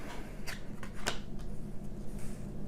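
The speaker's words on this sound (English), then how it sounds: "You're going to roll the dice, and then we're going to flip 3 cards." In a tabletop session of the board game On Tour, a few quick, crisp rattles and snaps of dice being rolled and cards being flipped on a table sound close and fairly quiet, spaced a moment apart.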